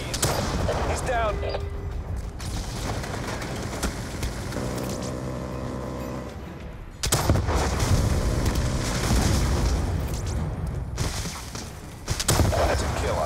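Bursts of gunfire and booming blasts in a Call of Duty: Black Ops 2 Strike Force battle at a forward operating base, with dense firing under frequent radio chatter and announcer voices.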